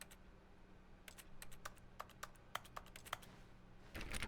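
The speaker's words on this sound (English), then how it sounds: "Why is everything like a keyboard sound even when I'm not doing anything?" Keyboard typing sounds in The Stanley Parable video game: a run of quiet, sharp key clicks in an irregular rhythm, heard alone over a faint steady hum, with a louder burst of noise at the end.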